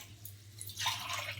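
Water is poured from a glass into a pot on a stove to boil jaggery kudumulu. It starts as faint drips over a low hum, then becomes a soft, close splashing pour, with no talk.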